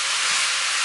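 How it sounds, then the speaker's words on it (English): Ground beef for a bolognese cooks in a hot pan, giving a brief, steady, close hiss and sizzle. "I can hear my pan, and you can, I'm sure, hear my pan, but it is getting hotter"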